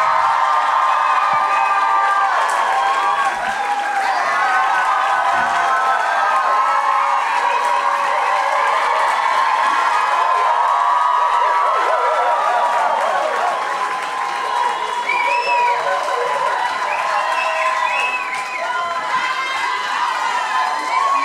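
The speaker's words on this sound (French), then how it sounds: "Faites un maximum de bruit pour vos animateurs, Sam Cyr et Marilyn Gendron!" A live comedy-show audience in Montréal applauds and cheers loudly and continuously for the hosts, with whoops and shouts over dense clapping.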